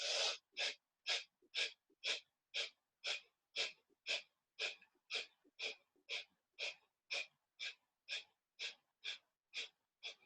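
Rapid forceful pumping breaths in a yoga breathing exercise, about twenty sharp, evenly spaced nasal exhalations in a steady rhythm, close and alone.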